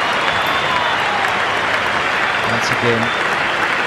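Cricket crowd at an India match cheering and singing steadily as a broad, continuous roar throughout, with a commentator talking over it.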